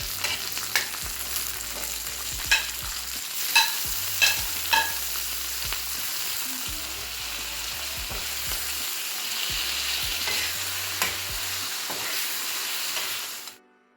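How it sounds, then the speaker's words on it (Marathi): Green chillies, tomato and garlic frying in a pan give a steady, fairly loud sizzle with repeated sharp scrapes and taps of the stirring spoon, heard alone until the sound cuts off at the end. "याला आपण छान परतवून घ्यायचं आहे"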